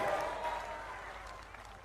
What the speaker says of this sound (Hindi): तालियां बजा के अपन उनका स्वागत करें।